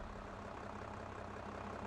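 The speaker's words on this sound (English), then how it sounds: "Sounds lovely there with a little four-cylinder engine under the bonnet." A Ford tractor's four-cylinder engine in Farming Simulator 22 runs with a steady, even low rumble, heard alone with no voices.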